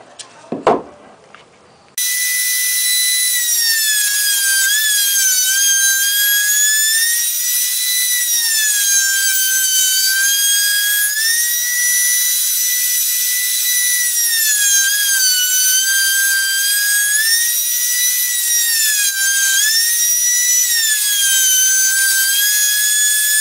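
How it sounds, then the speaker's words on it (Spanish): A power saw cuts wooden moulding to size for a bookcase, a loud, sustained whining drone whose pitch dips and recovers as the blade bites into the wood. A few brief knocks of handling come just before it starts. "Haremos la moldura y recortaremos la medida en la sierra."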